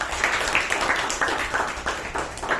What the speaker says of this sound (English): give a thunderous applause to all the three speakers.